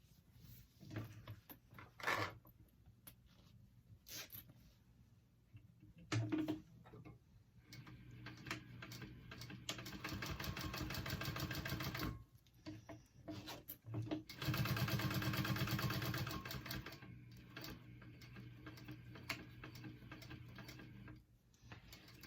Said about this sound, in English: now we're going to sew along the top.